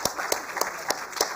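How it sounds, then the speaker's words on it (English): Steady applause from an award ceremony crowd honoring a top-ranked student, with dense clapping and a few sharper claps standing out in a short burst. "Please give a huge round of applause."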